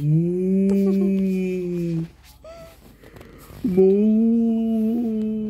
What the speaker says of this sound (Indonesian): ini ada sapi